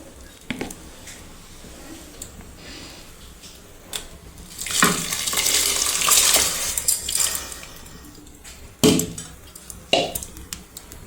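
Washed rice and lentils for plain Gujarati khichdi tipped into a pot of hot water, giving a burst of splashing and pouring in the middle, framed by scattered clinks of utensils against the pot.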